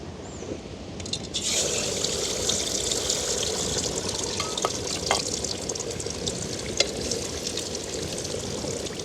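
Prawns coated in salt and turmeric sizzle and crackle in hot oil, a steady close frying hiss that jumps louder as they go in, with occasional pops and spits and no talking.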